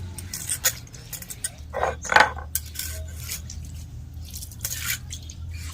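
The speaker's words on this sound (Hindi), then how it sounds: "इस तरह से हम सिल को साफ कर लेते हैं पानी के साथ।" Wet scraping and rubbing as a stone grinding slab (sil) is washed with water, with small clinks and splashes, irregular and fairly close, over a low steady hum.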